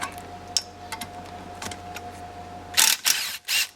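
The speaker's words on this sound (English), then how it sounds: "there's me taking a bolt out" Removing a bolt during a turbo install on a 1946 Ford: light metallic clicks and ticks over a steady hum, then a few loud, harsh bursts of tool noise close by near the end.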